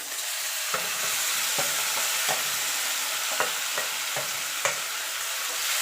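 Fish added to reddened fried onions sizzles loudly in a pan over a gas flame, with a steady hiss and a series of sharp spatula scrapes and knocks as it is stirred, close up and without talk.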